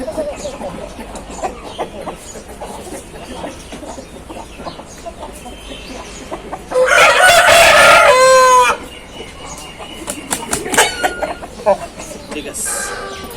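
An Aseel rooster on a farm crows one loud, drawn-out call midway, with softer clucks and bird sounds before and after. People talk in the background.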